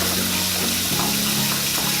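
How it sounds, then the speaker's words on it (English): Warm tap water runs into a sink for brush cleaning, a loud, steady close rush with a low humming tone underneath, continuous and unbroken. "the next step is to take some warm water"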